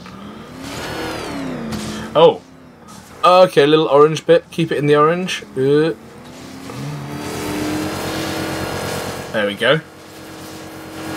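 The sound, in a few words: Batmobile engine revving while power winching, Batman: Arkham Knight video game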